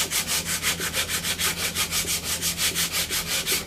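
Steady rhythmic hand sanding of a fiberglass loster (ventilation block) mold, about five even back-and-forth rasping strokes per second, close and moderately loud with no talk.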